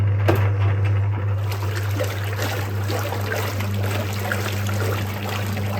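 Simpson wringer washing machine filling with water, a steady trickling flow over a constant low motor hum, close and continuous.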